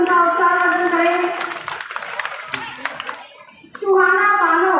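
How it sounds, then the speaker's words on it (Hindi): Scattered hand clapping from a crowd at a girls' senior secondary school annual function in Rajasthan, under loud amplified speech, the applause rising briefly between spoken phrases. "जोरदार तालियों से उनका उत्साहवर्धन करें"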